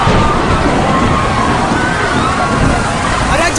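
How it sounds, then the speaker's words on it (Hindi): Rising tide water floods toward a seaside cottage in loud, continuous sloshing and rushing. A faint babble of voices sits beneath the churning water. "अचानक पानी बहुत बढ़ गया कॉटेज की ओर"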